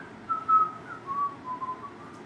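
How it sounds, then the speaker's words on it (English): A person whistles a wrestling tag team's theme song, a clear, close melodic tune of several gliding notes, alone without talking. "You started whistling their theme song."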